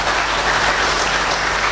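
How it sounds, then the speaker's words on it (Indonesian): Seminar attendees applaud Dr. Ono W. Purbo in a loud, even wash of clapping that fills the whole short moment. "Tepuk tangan buat Pak Ono."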